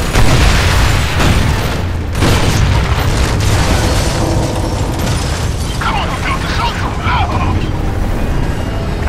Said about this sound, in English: We're still under heavy fire from our left flank.